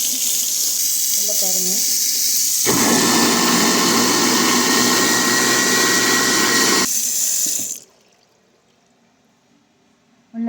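Tap water runs loudly into a kitchen sink fitted with a garbage disposal, a steady rushing gush that stops abruptly near the end, with a voice speaking briefly over it.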